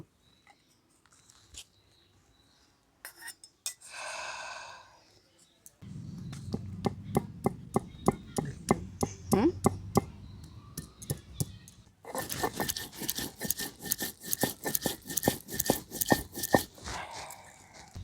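Cumin, coriander, a little mustard, ginger, garlic and green chili are ground into paste on a grinding stone, with steady rhythmic scraping and pounding strokes that grow faster and louder toward the end.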